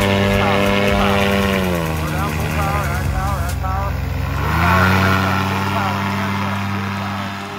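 Powered paraglider trike engine and propeller roaring at full throttle, a loud steady drone with shifting pitch, close by, with a voice calling out instructions over it.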